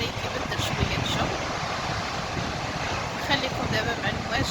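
Sea waves washing onto the beach at Lalla Fatna, a steady broadband rush of surf with wind, close and fairly loud throughout, rising and easing slightly without any voices.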